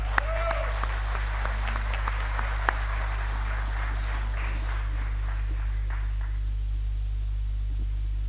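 Warm applause from a singing-contest audience in Asturias greets a young female singer, steady dense clapping over a constant low hum, thinning out toward the end.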